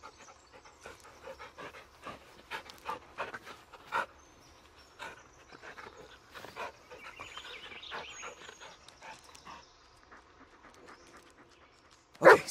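A dog companion pants in the Blair Witch video game, soft rhythmic breaths in bursts over a quiet game backdrop, with a louder sharp sound at the very end.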